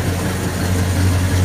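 A 1969 Pontiac Grand Prix engine running, a loud, close, steady low rumbling idle with a throbbing exhaust note.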